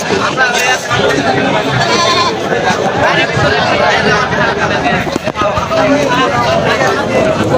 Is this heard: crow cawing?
no